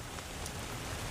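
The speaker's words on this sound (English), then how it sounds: "And Ken, I know the heavy rain already coming down there" Heavy rain pours steadily onto Cambridge Street in Worcester's Green Island neighborhood as remnants of Ida arrive, a dense, even hiss with no voices.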